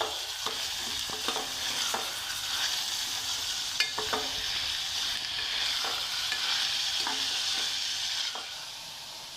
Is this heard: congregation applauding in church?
no